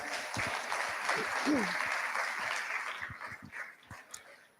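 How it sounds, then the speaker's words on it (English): A brief burst of clapping from a small group at a meeting, with a voice and a dog-like yelp mixed in, fading out over a few seconds. "Please give them a round of applause."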